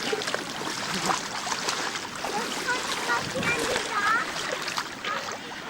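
Warm water flows and splashes along Eli Creek on Fraser Island, Queensland, Australia, a steady close rush under people talking and children's voices.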